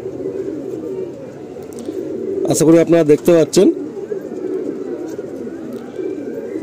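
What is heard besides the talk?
pigeons cooing in a loft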